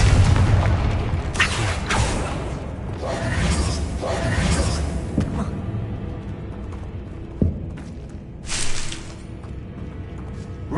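Booming fire-spell blasts in the Hogwarts Legacy video game, a few heavy impacts with crackling debris over a dense rumbling game soundscape, no talk.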